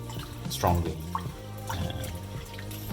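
Japanese rice is scrubbed vigorously in water, sloshing and dripping in short bursts beneath a person talking.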